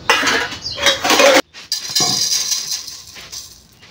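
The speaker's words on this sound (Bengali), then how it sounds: "তো এই মুড়ির বিস্কুটটাই জল দিয়ে সুন্দর করে মেখে দেবো।" Puffed rice and biscuits being mixed with water by hand in a bowl, giving loud, close, continuous wet crunching and scraping that breaks off briefly, then resumes more softly and fades out.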